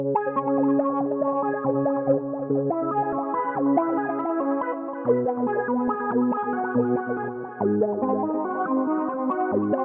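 A bright synthesizer arpeggio cycles through quick repeating notes, drenched in echo and effects, steady and prominent with no talking.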